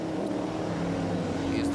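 V8 modified saloon race cars with 650 to 700 horsepower accelerating at a South African circuit, a steady droning engine roar heard at a distance beneath a commentator's voice.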